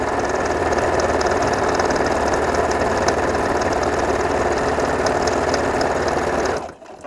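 A domestic sewing machine runs steadily while stitching a homemade fabric face mask with tie strings, a loud continuous whirring hum with fast needle rhythm that stops abruptly near the end.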